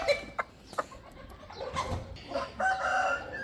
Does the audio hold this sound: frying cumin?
no